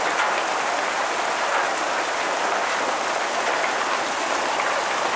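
A heavy afternoon downpour at the base of the Rocky Mountains in Colorado, a dense, steady hiss of rain pounding surfaces, loud and unbroken with no voices.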